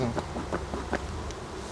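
Honeybees buzz around an opened hive box during a hive check, a steady nearby drone with a few louder passes of single bees flying close.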